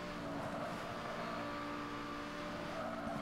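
A Lamborghini duels an Audi in a street race in the video game Need for Speed, a steady engine drone and road roar held at even loudness with no breaks.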